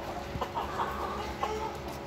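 Black Hmong chickens in Vietnam clucking in a short, busy run of overlapping calls, several birds close by over a steady rustling farmyard background.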